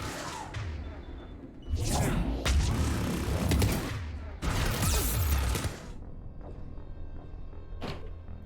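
Turret gunfire in Mass Effect 3, coming in a few heavy rattling bursts with whooshes and thuds between them, loud at mid-distance, then falling away to quieter ambience with one last sharp hit.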